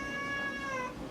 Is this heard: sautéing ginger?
no